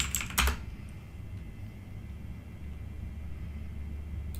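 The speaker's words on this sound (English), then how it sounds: "we type in the email address that we just put in" Keystrokes on a computer keyboard while entering an email address into a WordPress login, a quick cluster of sharp clicks at the start, then a few faint taps over a quiet background hum.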